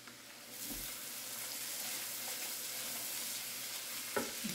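Spices with chili paste sautéed in a pan for doi katla, a soft, steady sizzle that swells in after a brief quiet start and ends with a couple of stirring knocks.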